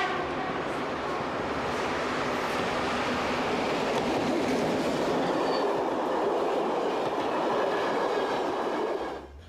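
A locomotive-hauled passenger train on a Belgian railway rumbles steadily past at moderate distance, a continuous roar of wheels and rails lasting several seconds before cutting off.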